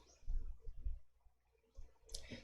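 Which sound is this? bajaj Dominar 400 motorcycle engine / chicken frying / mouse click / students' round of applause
mouse click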